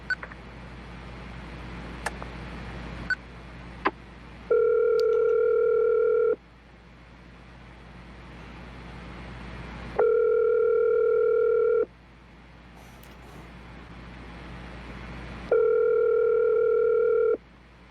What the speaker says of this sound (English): The constant ringing again.